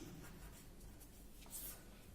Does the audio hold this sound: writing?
yes